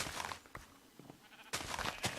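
Sheep bleating in Minecraft, several short separate bleats spread across a quiet farm scene, moderately loud and close, with no talk over them.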